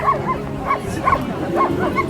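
A dog barks and yips repeatedly in quick, excited bursts at a dog show in Częstochowa, close and loud against a busy background.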